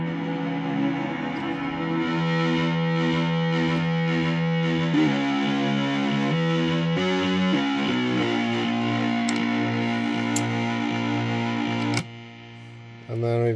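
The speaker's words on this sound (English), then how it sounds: "Full distortion, full reverb." Electric guitar played through full distortion and full reverb on a pedalboard rig, sustained saturated chords shifting every second or two with a washy tail, steady and close, ending on a brief drop before a final swell.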